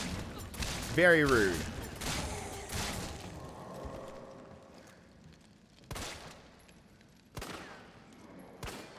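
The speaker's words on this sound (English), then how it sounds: "Don't look at me when I'm shooting at you." Gunfire in Resident Evil 3 Remake on Inferno mode: after someone talks, a few sharp, loud shots ring out, spaced a second or more apart.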